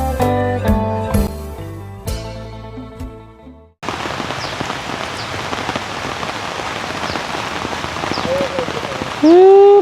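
Steady rain pours onto a hut under construction, a dense, even hiss of drops beginning abruptly partway through after a musical opening and continuing loud and close to the end.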